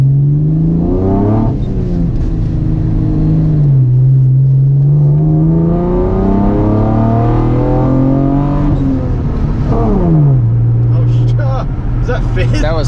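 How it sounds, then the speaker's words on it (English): Car engine revved hard through the gears, loud and close, pitch climbing then dropping at each shift, with a final upshift near the end; a person talks over it. "I'm going to give it a little rip here."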